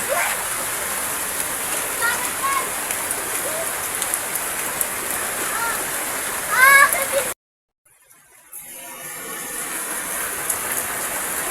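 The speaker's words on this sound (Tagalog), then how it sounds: "Malakas ang ulan ngayon. At high tide din ang dagat." Heavy rain pours steadily by the sea at high tide, a dense, loud hiss of falling water that cuts out abruptly near the end before resuming more faintly.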